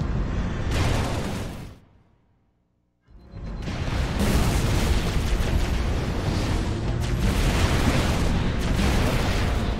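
A big explosion in Halo: Reach erupts as a loud, roaring blast, cuts to near silence for about a second, then rolls back into a sustained, dense rumble of combat noise.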